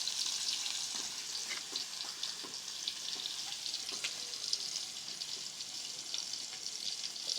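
Chopped onions fry in hot oil with a continuous, even crackling sizzle, fairly quiet and unbroken, with no talking over it.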